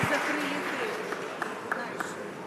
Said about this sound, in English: Give them a round of applause, everyone.